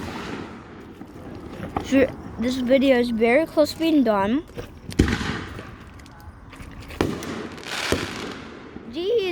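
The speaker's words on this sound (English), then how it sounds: "And there's fireworks." Fireworks burst at a 2021 fireworks show in several sharp, loud cracks and booms spaced a few seconds apart, with a person talking over the earlier part.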